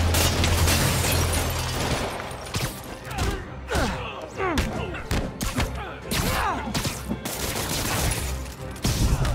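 Gunfire in Marvel's Spider-Man Remastered on PS5, a dense loud fusillade of shots and thuds with game effects, while voices shout over the combat throughout.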